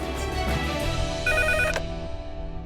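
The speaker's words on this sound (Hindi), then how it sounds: "आपके लिए अर्जेंट कॉल।" A telephone rings with an incoming call amid a soap-opera hospital scene, its repeated electronic ring tones loud and steady over background music.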